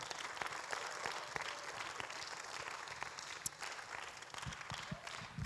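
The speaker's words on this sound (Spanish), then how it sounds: "Dale un fuerte aplauso al Señor." A church congregation applauds during a sermon, broad crowd clapping heard at a moderate distance and level, with sharper individual claps and faint voices scattered through it and a few louder hits near the end.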